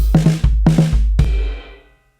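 A short drum-kit groove with sixteenth notes on the last two beats: quick clusters of punchy low hits in a tight rhythm, ending on a single accent that rings out and fades.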